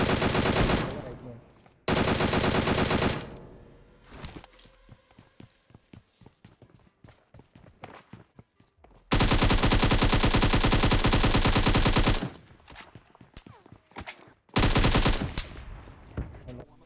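Automatic and rifle gunfire in PUBG, including M24 sniper fire, rings out in loud sustained bursts and rapid volleys separated by quieter stretches of scattered shots and footsteps.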